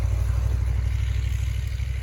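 A 1985 Dodge Ramcharger engine idles steadily up close, a deep, even low rumble with a slight rhythmic pulse and no talking over it.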